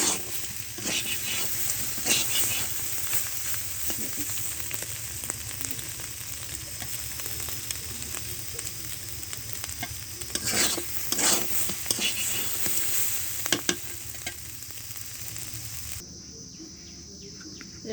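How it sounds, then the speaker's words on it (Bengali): Man kochu taro and Sundarbans crab fry in a pan outdoors with a continuous crackling sizzle and repeated scraping stirs, while crickets and birds chirp in the background; the sound drops away near the end. "কচু আর কাঁকড়া আর ঝরঝরি করে ভাজি করেছি"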